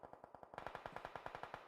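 Rapid automatic gunfire in the mobile battle royale game PUBG Mobile during a competitive esports match, a steady burst of evenly spaced shots at roughly ten per second that grows louder and sharper partway through, with no talking.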